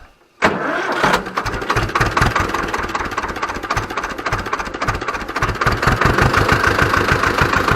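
An Ursus C-325 tractor engine cranks and catches with a sharp start, then runs in a steady, knocking diesel idle with a light blip of throttle. Loud and close, no talking.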